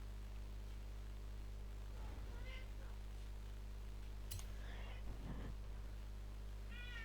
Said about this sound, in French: Désolé pour mon chat qui miaule derrière.